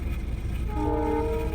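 A small goods train engine passing, a loud continuous rumble with a rising horn-like tone near the end, close and without talk.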